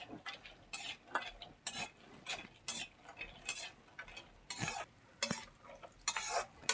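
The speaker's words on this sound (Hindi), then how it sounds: "देसी घी गर्म हो जाएगा तो इसमें हम काजू डाल देते हैं, इनको भून लेते हैं अच्छे से" Cashews roasting in hot desi ghee in a kadhai, heard as a quiet series of repeated spoon scrapes and stirring strokes over a faint sizzle, with no talking.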